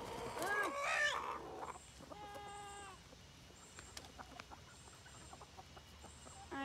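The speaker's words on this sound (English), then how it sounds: "You like cock-a-doodle-dooing." Hen in a backyard coop crows loudly and briefly up close, then clucks softly in scattered bursts, with a faint voice and quiet room noise underneath.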